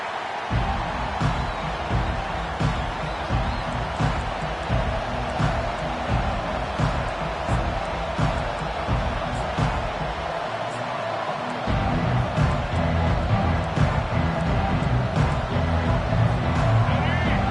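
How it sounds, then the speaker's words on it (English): Crowd noise from a college football game between Alabama and Georgia fills a stadium as a steady, roaring wash with swelling cheers, heard under continuous play-by-play commentary. "This crowd trying to make life miserable for this offense."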